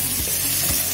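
Beef sizzles loudly in a wok with garlic, onion and ginger, a dense continuous frying hiss with faint stirring scrapes, close up and with no voices.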